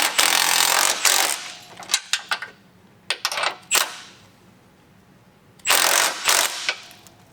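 Ratchet tightening mud flap bracket bolts on a 2022 Ford Bronco Raptor: loud bursts of rapid clicking in short runs, separated by brief pauses and single clicks, close up and alone.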